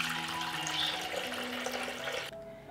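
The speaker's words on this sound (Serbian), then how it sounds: "sipaću u njega litar hladne vode" A liter of cold water is poured into a 6-liter pressure cooker, giving a steady close splashing stream that stops abruptly near the end.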